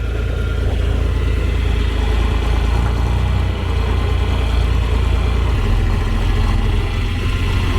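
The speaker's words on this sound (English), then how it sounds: "There's the very reliable red tractor's loader." Red tractor with a front loader on a farm, its engine running steadily at idle throughout, a continuous low chugging rumble close by with a slight shift in tone near the end.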